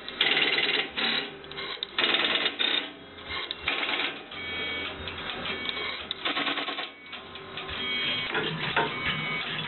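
Western Electric 755A crossbar PBX switching equipment clatters through a call being dialed in on a trunk line, a dense run of rapid mechanical relay clicks and chattering bursts that keep going for the whole stretch with brief lulls, loud and close.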